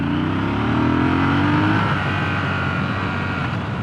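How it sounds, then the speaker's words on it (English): A Triumph Scrambler 1200 motorcycle with a liquid-cooled 1200cc parallel twin accelerates hard in second gear from low revs. Its loud engine note climbs steadily in pitch, then settles into a full roar. "this 1200cc parallel twin, liquid cooled, very quick, very punchy, very fast"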